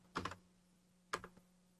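Code being typed on a computer keyboard: two short, quiet bursts of rapid key clicks about a second apart, close by over a low steady hum.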